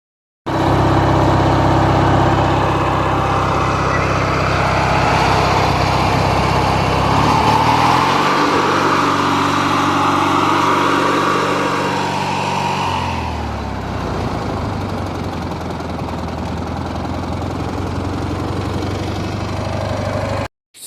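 Craftsman LT1000 race mower engine running on a test drive, a loud continuous close drone that rises and falls in pitch as the throttle changes, then settles to a steady run.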